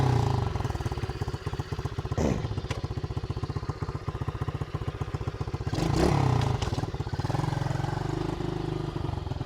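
An SSR110 pit bike engine runs right after a kick start, a close, rapid, steady single-cylinder putter with two brief revs, heard alone.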